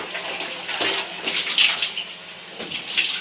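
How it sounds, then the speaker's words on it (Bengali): Running water rinses a bathroom during its final wash, a steady broadband splashing and gushing that swells in uneven surges throughout, close and fairly loud with no talk. "এবারে বাথরুমটা খুব সুন্দর করে ফাইনাল ধুইয়ে দেব"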